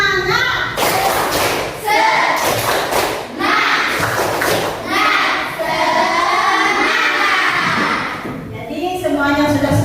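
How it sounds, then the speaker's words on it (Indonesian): A classroom of children performs a rhythmic spirit clap, loud thumping claps in patterned bursts alternating with the children chanting together in unison. "Tepuk semangat"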